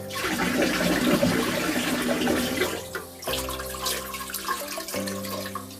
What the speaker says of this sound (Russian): Воду всегда использую обычную из-под крана.